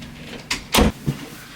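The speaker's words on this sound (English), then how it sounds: "let me shut this door." A door swings and shuts with a solid thud, a brief scrape first and a small knock after, all close and otherwise quiet.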